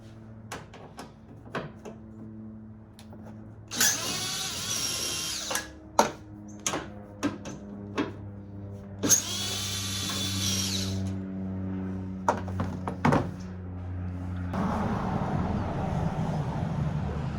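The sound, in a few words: power drill removing Torx screws from 2017 Toyota Tundra tail lamp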